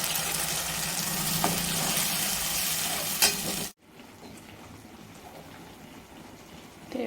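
Onions sautéing in a pan for brinjal kara kuzhambu give a loud, steady sizzle that cuts off suddenly partway through, leaving a much quieter, softer frying hiss to the end. No voices.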